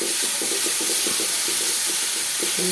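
Water hitting a hot pan of frying onions and spices, a loud steady hiss and steam sizzle filling the whole stretch, close, with faint rhythmic bubbling beneath.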